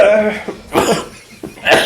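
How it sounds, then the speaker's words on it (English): A person coughs several times in quick succession, close and loud, with short gaps and a throat-clearing quality between the bursts. "I feel like I'm coughing a lot in this video."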